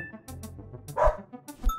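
Dog barking in a video game, a few short barks, with a louder burst near the middle and another toward the end, over faint game sounds.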